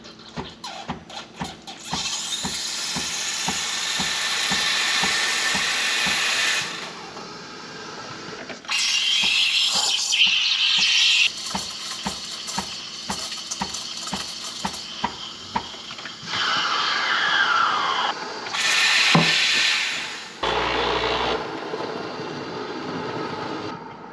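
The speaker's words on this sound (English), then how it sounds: "Let's go ahead and steam some milk and make a cappuccino." Milk is steamed for a cappuccino on an espresso machine, a loud sustained hiss and roar with rapid ticking pulses at first, then several separate hissing bursts broken by brief pauses.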